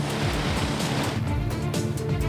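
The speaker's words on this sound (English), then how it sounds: "Once you get into a river on a quad, I mean, you're committed, man." A quad ATV pushes through a river, a continuous churning roar of rushing, splashing water mixed with a low engine rumble, loud and close throughout with no pauses.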